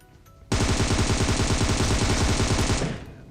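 Heavy gunfire from a shotgun fight in PUBG Mobile begins abruptly, then runs as a loud, continuous rapid rattle for about two seconds before cutting off and fading.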